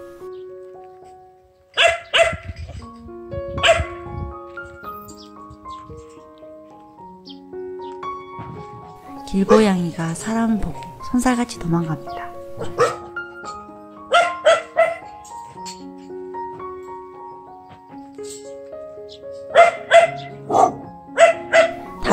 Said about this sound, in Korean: 갑자기 옆집개가 짖네요.